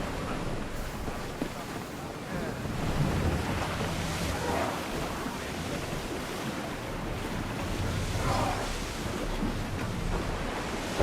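A sailing ship moves across the open sea in Assassin's Creed Odyssey, with steady broadband wash of waves and wind rushing around the hull, continuous and fairly loud from start to finish.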